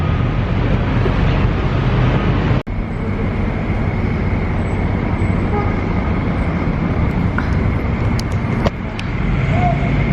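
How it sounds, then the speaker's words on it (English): A sightseeing tour bus rolls through New York City traffic, giving a steady loud engine and road rumble with a brief dropout, faint distant sounds and chatter mixed in. "We have ended up on a sightseeing tour bus."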